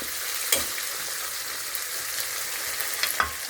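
Dilis (anchovies) frying together with tomatoes in a pan for kinamatisang dilis, a steady close sizzle with a few clinks and stirring scrapes over it, no voices.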